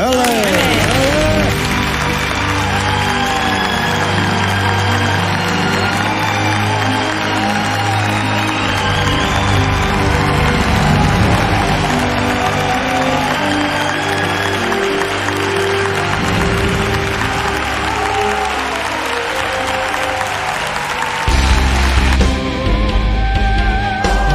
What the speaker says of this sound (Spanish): Reciban con un fuerte aplauso a Falete